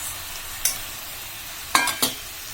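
Tomato goes into a pan of frying raw banana curry, giving a few sharp sizzles and stirring scrapes over a steady low frying hiss.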